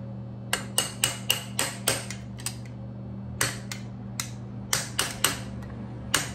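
A crescent wrench used as a hammer taps on steering column parts, giving sharp metallic clicks in quick clusters of four or five with short pauses between, close and clear over a steady low hum.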